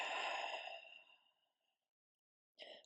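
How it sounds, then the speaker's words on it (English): A long open-mouth exhale during a slow-flow yoga practice, a breathy sigh close to the mic that fades out over about a second and a half, followed after a pause by a brief second breath sound. "Big breath in. Open mouth, exhale."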